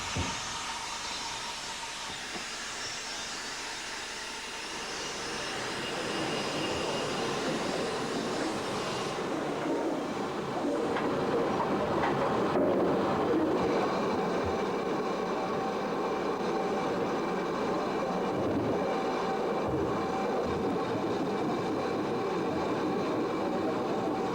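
Great Western model locomotives running on a model railway, giving a continuous rumbling roar that grows louder after a few seconds and holds steady, close by, with no talk.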